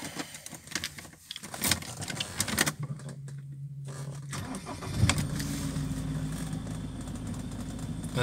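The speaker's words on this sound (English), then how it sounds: "Just start the car for a moment." A Land Rover Defender 90 County cranks with a whirring starter, catches, and settles into a steady, fairly loud idle that fills the rest of the clip. Clicks and rustling come before the start, and no one talks.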